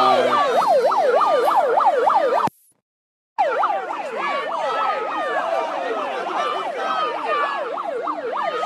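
An ambulance siren wails in a fast, steady up-and-down warble, loud and close, during street clashes in Pavia. It cuts out for about a second, then resumes with traffic noise and no talk.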